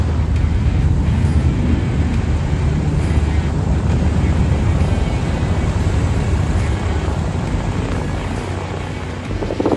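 A Marchetti SF-260 propeller airplane engine runs loud and steady from inside the cockpit before taxiing, a constant dense roar with no break.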